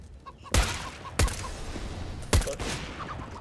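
Three loud, close gunshot bursts in a video game, each a sharp crack with a short decaying tail, spaced unevenly over a few seconds against low background noise.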